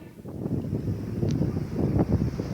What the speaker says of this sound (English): The Mistral wind was blowing. So you see when the wind gusts hit me.